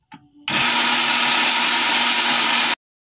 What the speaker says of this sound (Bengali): পেঁয়াজগুলো মিক্সারে আমি কুচিয়ে নেব।